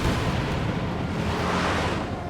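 Buildings collapsing under rocket fire in the Company of Heroes 2 strategy game, a continuous loud rumbling roar of crumbling debris and explosions that fills the whole stretch without any talk.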